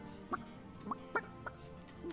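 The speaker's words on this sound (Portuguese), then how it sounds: "Don't let that rooster escape. He's already on the menu for tonight." A rooster from the video game Divinity: Original Sin gives a short run of clucks, five quick separate calls spread evenly over about two seconds, clear against quiet background game ambience.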